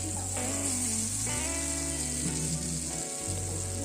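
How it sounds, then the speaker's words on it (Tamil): Prawns and masala fry in a pan for a prawn pepper fry, giving a steady, dense, close sizzle that runs throughout beneath a continuous tonal hum. "ஓரளவு எறாவும் மசாலாவும் சேர்ந்து ஃப்ரை ஆகிடுச்சு"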